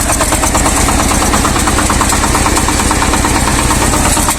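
Shifeng SF-240 mini tractor engine running while planting potatoes in a tilled garden, a loud close, steady rapid chugging drone with a pulsing, vibrating rhythm and no voices.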